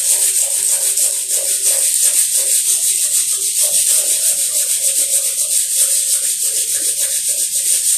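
A knife blade is rubbed against sandpaper in quick, steady back-and-forth strokes, giving a loud, close, continuous hiss that holds constant throughout with no talk.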